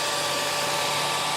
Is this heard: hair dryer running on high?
yes